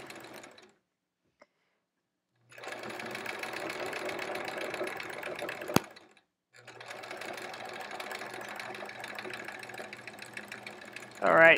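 A sewing machine doing free-motion quilting runs in two steady stretches of rapid needle chatter, separated by short silent pauses. It stays close and alone, with no voice over it.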